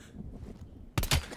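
Gunfire in the Call of Duty Black Ops Cold War campaign: two sharp, close gunshot bursts in quick succession that cut through a low, murky game background.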